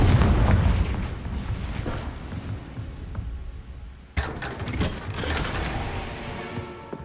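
A Confringo blasting spell bursts in Hogwarts Legacy, with a deep rumbling boom fading over several seconds, then a sharp second crack and crackling, debris-like rumble that slowly dies away.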